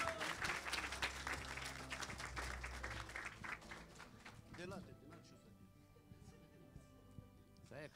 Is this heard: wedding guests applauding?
yes